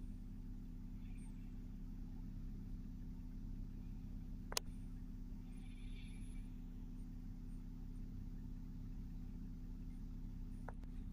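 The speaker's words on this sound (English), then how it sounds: "Start the engine." A Range Rover Vogue 3.0 engine runs at a steady idle, a quiet and constant low hum with a couple of brief clicks over it.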